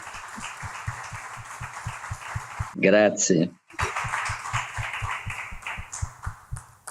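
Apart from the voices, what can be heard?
audience applause for the two presenters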